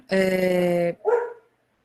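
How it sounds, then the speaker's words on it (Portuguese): A dog gives a single loud, drawn-out bark or howl followed by a shorter yelp, close to the microphone, then silence. "Ela latindo muito."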